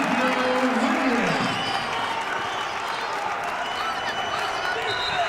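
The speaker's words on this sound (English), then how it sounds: "The Falcon faithful applauding the Bowling Green effort right now." Crowd of Bowling Green Falcons fans applauding steadily at an NCAA men's basketball game against Miami (Ohio), a dense, even wash of clapping filling the arena with a low voice briefly underneath.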